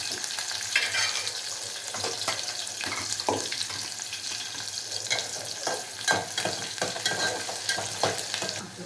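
Cumin, mustard seeds, chopped onion and green chillies fry in hot oil in a pan, a steady close sizzle with repeated stirring and scraping scrapes throughout and no talking.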